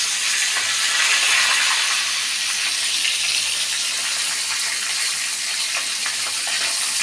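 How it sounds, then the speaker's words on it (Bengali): Rohu fish pieces frying in oil, a loud, dense, continuous hiss and sizzle that stays steady and close throughout with no voices over it. "মাশাআল্লাহ, আমার মাছগুলো অনেক সুন্দরভাবে ভেজে উঠে আসছে।"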